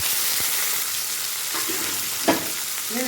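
Small onions and ginger sautéing in a pan for tomato chutney, a bright steady sizzle of hot oil with a couple of faint scrapes and a brief louder clack, close and without speech.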